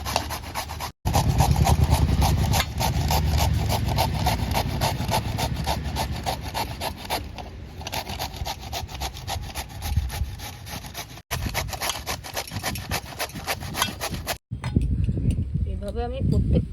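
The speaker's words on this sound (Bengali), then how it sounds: "কচুটা আমি এবার ঘষনি দিয়ে ঘষে নিচ্ছি" Taro root being grated by hand on a grater, a steady rasping scrape repeated in quick strokes for most of the stretch, close and fairly loud, with a couple of brief pauses.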